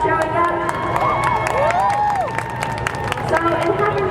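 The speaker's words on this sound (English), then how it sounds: "Give yourself a round of applause for showing up." A crowd at a Stop Asian Hate rally in Indiana cheers and applauds. Continuous clapping runs under rising whoops and whistle-like shouts, with a lively, sustained roar throughout.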